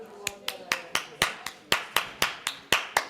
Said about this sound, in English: You can hear me clapping?